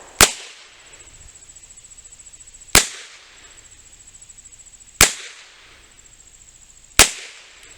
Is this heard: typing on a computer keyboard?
no